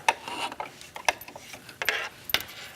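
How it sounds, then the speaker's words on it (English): Sewing machine with a walking foot back-stitching silk velvet, quiet mechanical rasping and a few sharp ticking clicks spaced irregularly, close and faint with no talk. "And I'm loving this walking foot. It's doing my job for me. Do a little back stitch."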